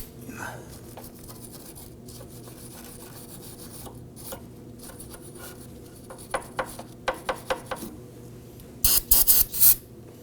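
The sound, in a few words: small bristle brush scrubbing clean a tie rod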